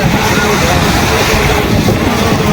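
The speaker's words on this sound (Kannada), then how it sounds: "ನೋಡ ಅಲೆಗಳು ಹೆಂಗೆ ಬರಕತ್ತವು" Strong sea waves surging against a bridge out over the sea, a steady loud broadband wash with heavy wind buffeting the microphone throughout, continuous with no break.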